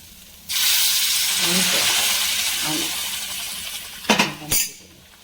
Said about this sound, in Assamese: তিলখিনি ভাজি হোৱাৰ পিছত ইয়াত এতিয়া গৰম পানী দি দিম